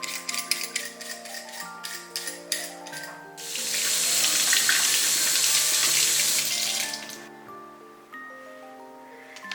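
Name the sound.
tap water washing green peppers and potatoes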